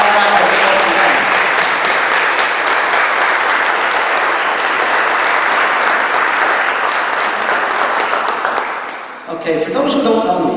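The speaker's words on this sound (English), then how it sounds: "How about a round of applause for them?" Sustained, loud audience applause in a hall at a candidates' meeting, steady clapping from a crowd that fades near the end as a voice begins to speak.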